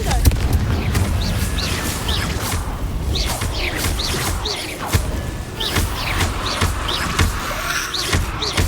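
The Confringo fire spell in Hogwarts Legacy is cast over and over in combat, giving a run of whooshing blasts and crackling bursts over a low rumbling bed. Speech is faintly present.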